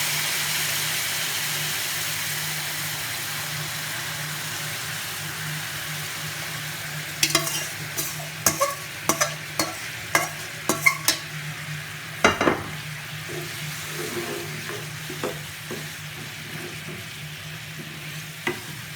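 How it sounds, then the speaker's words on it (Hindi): Syrup being stirred into hot halwa in a pan, with a steady low sizzle and a series of clinking, scraping spoon strokes in the middle, close and fairly quiet. "जो हमारे पास शीरा था वो मैं अब इसमें मिला देती हूँ अपना।"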